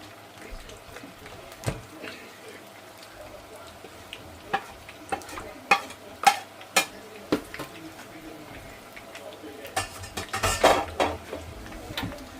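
Onions go into a frying pan while chip shop curried mince is being made, with a soft sizzle under repeated sharp clinks and knocks of utensils against the pan, some close and loud.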